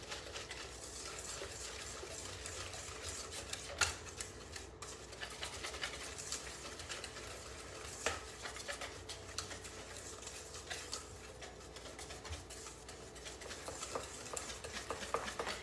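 A whisk beats an egg white mixture in a bowl, making a quiet, rapid, rhythmic ticking and clicking that continues for the whole stretch, with occasional louder taps against the bowl.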